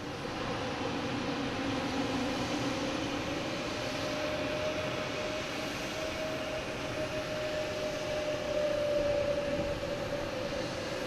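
A big UPS cargo jet from Louisville comes in to land at Boston Logan International Airport, its engine roar loud and continuous with a sliding whine that builds slightly toward the end, no voices present.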